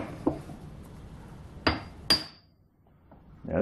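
A hammer striking hardened steel in a workshop, a few separate sharp metallic hits, one leaving a clear high ring that hangs briefly before fading, with quiet gaps between blows.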